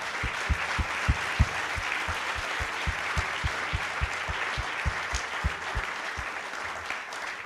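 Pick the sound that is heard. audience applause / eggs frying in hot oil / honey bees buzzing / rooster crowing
audience applause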